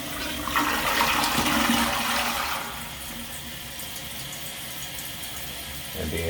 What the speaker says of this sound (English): So we'll flush it until it gets clear.